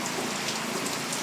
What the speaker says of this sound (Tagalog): Grabe, kusugo ng ulan.